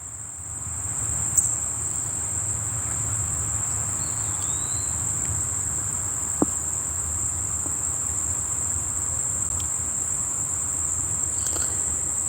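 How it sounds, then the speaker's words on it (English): Steady insect chirping outdoors in a calm, tree-lined natural setting, a continuous high-pitched trill running evenly throughout, with a couple of faint isolated clicks and no talking. "Listen for the insects."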